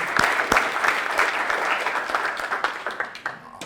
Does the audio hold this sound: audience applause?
yes